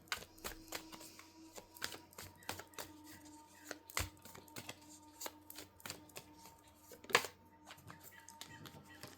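Tarot cards being shuffled by hand, a steady run of soft riffling snaps and taps, close and quiet, with a sharper slap near the end.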